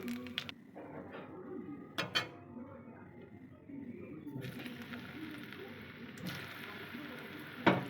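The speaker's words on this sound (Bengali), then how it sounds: "এবার এখানে জিরে তেজপাতা ফোড়ন দিচ্ছি।" Cumin seeds and bay leaf tempering in hot oil left over from frying fish, giving a steady soft sizzle with brief crackling bursts and a brighter hiss swelling midway, close and fairly quiet.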